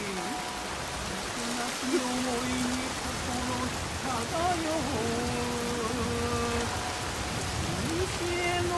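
Steady rain falls in the Assassin's Creed Shadows video game, a soft continuous hiss of drops at moderate level, with a plucked string instrument playing sparse notes alongside and faint background tones.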